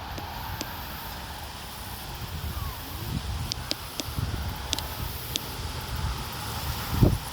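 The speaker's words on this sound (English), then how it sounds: "Whoa, it's windy." Steady outdoor wind gusts buffet the microphone on a nature walk, a broad continuous rumble with faint rustling throughout and a stronger gust near the end.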